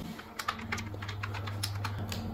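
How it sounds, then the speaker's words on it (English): Keys on a computer keyboard clatter as a git clone command is typed into a terminal: a short, close run of quick, uneven keystrokes over a low steady hum. "here you just have to type git clone"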